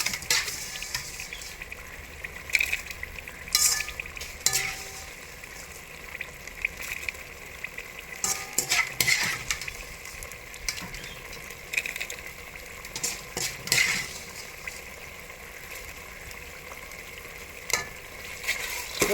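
Fried dried anchovies are stirred into a simmering gravy for an anchovy pickle, giving a steady sizzle with repeated scraping and stirring strokes, near and moderately loud, with no talking.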